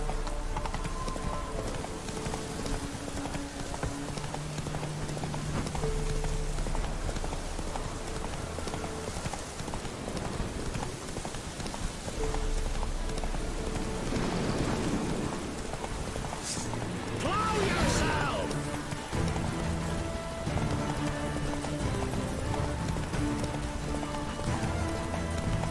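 Hoofbeats of Roach, Geralt's horse in The Witcher 3, galloping steadily through rain amid game music and ambience, with a voice speaking at moments over the running rhythm.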